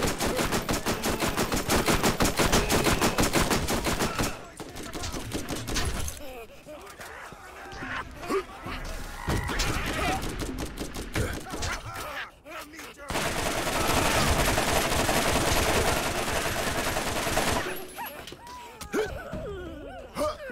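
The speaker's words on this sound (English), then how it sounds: "Large amount of shots in a minute." Rapid bursts of gunfire in the video game Borderlands, loud and dense over several seconds, dropping out briefly and then resuming, with gasps and voices mixed in among the shots.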